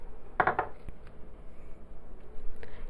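Cocoa butter tipped into a heat-safe container: a quick burst of hard clinks and clatter near the start, then a few lighter taps, close and fairly loud.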